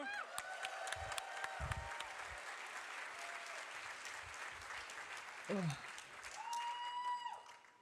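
Enthusiastic applause from a large audience at a PAX East gaming convention panel, clapping and some cheering, with a voice speaking over the crowd toward the end.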